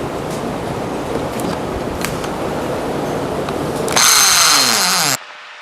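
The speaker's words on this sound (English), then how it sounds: "putting these 1-inch screws through the back to hold these boards against the plywood" A power drill drives 1-inch screws through the back of boards into plywood, a steady close whirring drone that rises into a louder, higher screeching burst near the end before cutting off abruptly.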